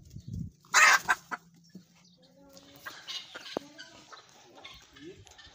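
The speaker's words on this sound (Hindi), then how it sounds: "इन मुर्गियों को भी निकाल देते हैं" Chickens cluck nearby in short, irregular bursts, one louder squawk standing out among softer clucks and scattered farmyard noise.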